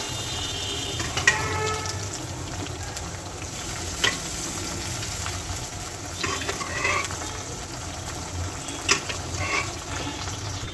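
Boiled lentils seasoned with turmeric and salt are poured slowly into a pan of hot onion tadka over a low flame, giving a steady soft sizzle and stirring noise with a few sharper clinks, close and without talk.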